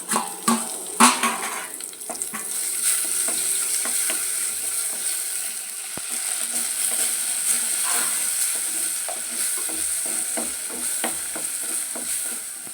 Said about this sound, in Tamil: வெங்காயம் நல்லா வதங்கிடுச்சு. இப்போ தக்காளி சேர்த்துக்கலாம்.